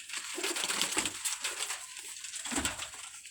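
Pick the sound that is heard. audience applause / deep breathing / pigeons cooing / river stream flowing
pigeons cooing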